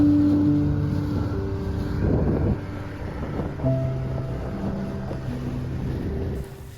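A sailboat runs under a large genoa in roughly 10 knots of wind off the Caribbean islands, with a steady rush of wind and water and a low hull and rigging drone throughout.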